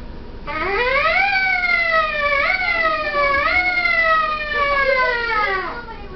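A trumpet with something placed in its bell mimics a police siren, a clear rising-and-falling wail repeated several times over a few seconds, close and fairly loud.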